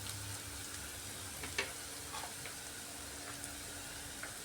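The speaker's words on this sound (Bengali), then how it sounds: "পেঁয়াজটা ভাজা ভাজা হয়ে গেছে।" Onions frying in a pan for a besan potol sabji, with a soft continuous sizzle and occasional light stirring scrapes. It is quiet and steady, and no voices are heard.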